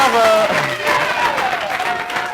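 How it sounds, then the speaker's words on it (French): Audience applause rising at an event gathering, a brief voice at the start giving way to steady scattered clapping that continues to the end at moderate loudness. "Applaudissez pour un peu"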